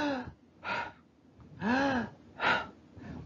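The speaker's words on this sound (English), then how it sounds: "So normal breathing is like this." A doctor demonstrates normal breathing with several audible, close breaths: a short inhale followed by a slower exhale, repeated in a loose rhythm with pauses and no talking.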